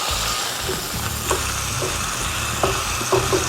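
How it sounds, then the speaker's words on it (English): Smash burger patty sizzling steadily on a hot cooking surface, a dense continuous frying hiss with a few soft pops and spatula taps, close and alone without talk. "You hear that sizzling?"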